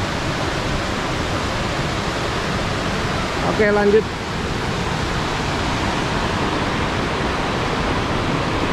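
Curug Bayan waterfall at Baturraden, a steady broadband roar of falling water filling the whole scene, with a brief spoken voice midway over the constant rush.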